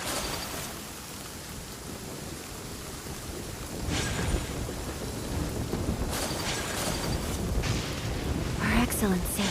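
Steady rain hiss and rumbling thunder in the video game Genshin Impact, a continuous wash of downpour that swells louder partway through, with distant rolls and a few brighter crackles near the end.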